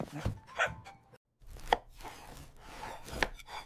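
Knife cutting through a birthday cake in three or four quick, crisp strokes against a plate, close by, separated by short pauses with no talking.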